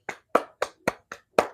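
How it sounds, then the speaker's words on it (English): Hands clap six times at an even, steady pace, close and crisp, each clap short and sharp with nothing else heard. "So you're just going to clap."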